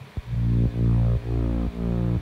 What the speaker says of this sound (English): We also have this bass coming in.